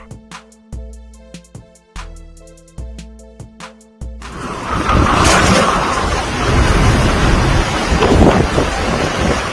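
A short burst of plucked music gives way to a sudden strong windstorm with rain. The storm is a loud, roaring rush of gusts and downpour that swells and holds for the last five seconds, with no speech.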